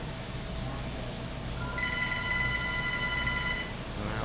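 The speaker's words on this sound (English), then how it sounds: "so we can get that phone call" A telephone rings in a quiet room during fly-tying, a steady electronic ringtone rising out of low background hum and continuing for a couple of seconds, with no talk.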